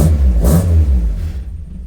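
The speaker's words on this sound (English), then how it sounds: "Let's give it a rev now." A Ford Escort MK2 engine revs hard in one quick, loud burst close by, then the sound drops away and trails off into quieter rumble.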